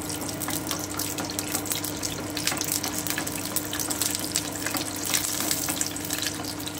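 Cashews, walnuts and almonds frying in hot oil in a pan, a steady hiss with scattered crackles and light stirring scrapes, close and continuous with no voices.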